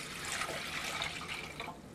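Filtered water pours steadily for a Cajun-style pork roast, a continuous hissing splash running for about two seconds at close range with no talking.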